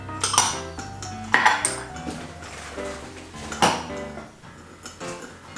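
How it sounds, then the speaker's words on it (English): Utensils clink against a bowl while sugar and salt are stirred into sushi rice seasoning, giving a few sharp knocks and scrapes at moderate loudness, with no talk. "You can just give that a little stir if you like."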